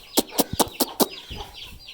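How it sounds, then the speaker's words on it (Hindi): A hen clucks five times in a quick, even rhythm, close by, followed by softer low clucking. "ये देखें ये मुर्गी भी आ गई है।"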